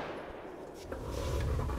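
Gunshot sound effect from the Spooky Month cartoon: a faint, quick crack followed by a short, low rumbling tail, all fairly distant and quiet.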